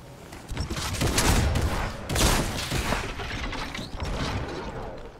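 Burst rifle fire in Fortnite cracks out in several loud clustered bursts amid game mechanism noise, close and sharp with brief gaps between volleys.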